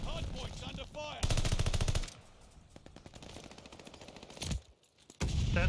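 Gunfire in a Call of Duty Hardpoint multiplayer match, loud rapid automatic bursts with short gaps and scattered single shots in between, close and dense.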